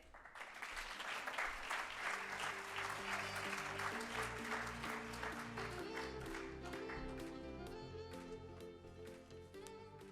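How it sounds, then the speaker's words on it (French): Conference audience applauding as speakers are introduced at an awards colloquium: sustained clapping from a fairly large room, fading a little, while upbeat music with a steady beat enters and plays beneath it. "Je vous demande de les applaudir."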